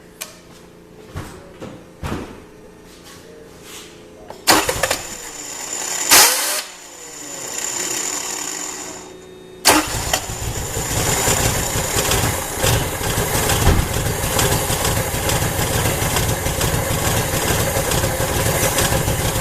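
A few clicks and cranking attempts before a 1980 Honda Accord engine with a Weber carburetor catches and starts, then settles into a loud, rough, steady idle with a couple of cylinders misfiring.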